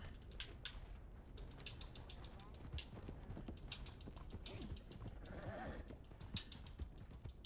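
A horse's hooves clip-clop at a steady trot in Red Dead Redemption 2, faint and continuous beneath rumbling ambient game noise and mechanical clatter.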